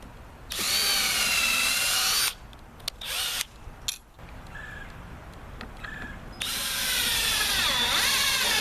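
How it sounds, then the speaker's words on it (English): A power drill bores a pilot hole in wood for a garden T trellis, whining in bursts that rise and fall in pitch, with quieter pauses and short restarts between the loud runs, close up and alone. "Drill the pilot."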